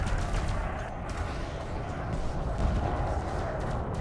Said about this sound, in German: Also ein bisschen Schaden machen die Raketen schon